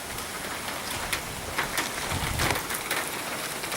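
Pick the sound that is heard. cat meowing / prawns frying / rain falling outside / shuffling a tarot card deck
rain falling outside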